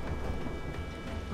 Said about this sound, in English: Thunder's roaring